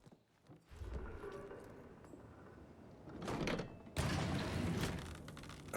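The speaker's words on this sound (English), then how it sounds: "Found a hidden door." A hidden door mechanism grinds open in Hitman 3, its creaking, clattering movement rising in two bursts over a low game-world background, fairly close with no talking.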